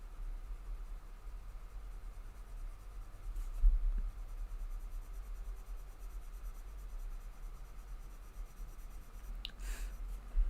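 Colored pencil scratching steadily across slick paper, a soft continuous dry scraping that stays faint and close throughout with no talking.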